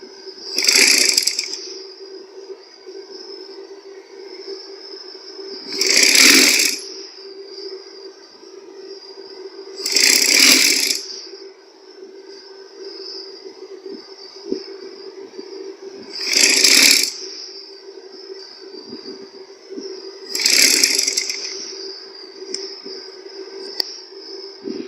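A sewing machine stitches piping onto the neckline of a baby girl's frock. A steady motor hum is broken by five loud, regularly spaced bursts of rapid stitching, close by.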